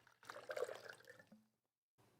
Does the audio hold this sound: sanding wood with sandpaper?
no